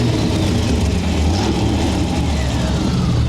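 A Chevrolet Corvette C4 with a 5.7 litre engine and an added auxiliary starter rumbles loudly and steadily, a deep continuous close-up engine roar with a faint voice under it.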